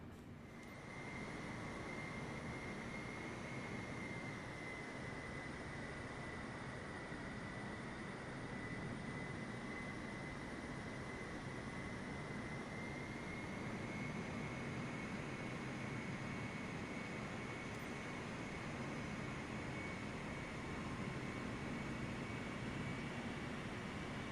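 A Boeing 747 takes off in Microsoft Flight Simulator 2024 as a steady, loud jet engine roar with a constant high whine that builds slightly over the run, no voices.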